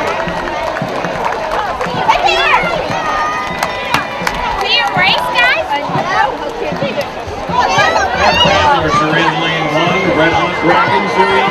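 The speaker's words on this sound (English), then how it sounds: "Let them hear your applause." Crowd at dragon boat races cheering and shouting, with children's voices and excited calls rising and falling, a dense lively roar with a loud announcer speaking over it.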